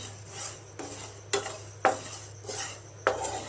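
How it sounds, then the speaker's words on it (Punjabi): A metal spoon scrapes and stirs spices roasting in a pan for amla pickle, giving several sharp, close scraping strokes at an irregular rhythm over a low steady hum, with no talking. "ਚੰਗੀ ਤਰ੍ਹਾਂ ਆਪਾਂ ਇਹਨਾਂ ਨੂੰ ਖੁਸ਼ਬੂ ਆਉਣ ਤੱਕ ਹਿਲਾ ਕੇ ਤੇ ਪਕਾ ਲਾਂਗੇ"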